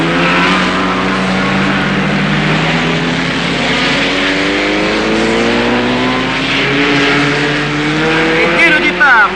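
Racing cars roar away at the start of a 1960s Nürburgring race, a Ferrari P3 among them, their engines droning loud and continuous with rising and falling pitches as the pack accelerates, a voice talking over the noise.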